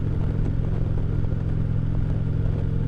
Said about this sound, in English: Harleys always seem to have a nice throaty sound to them